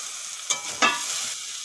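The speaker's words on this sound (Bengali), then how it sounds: "খুব আস্তে করে জাল দিয়ে আমি শোলা কচুগুলো ভেজে নিয়েছি" Sola kochu (taro stems) frying in a pan over low heat, giving a soft steady sizzle with two brief clatters of stirring, close and alone.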